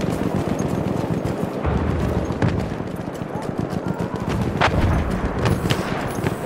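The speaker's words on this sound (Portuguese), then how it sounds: "Cavalo, cavalo, cavalo." Galloping horse in Battlefield 1 on a desert map, dense rapid hoofbeats under continuous battle noise with scattered gunfire and explosions, while a player talks over it.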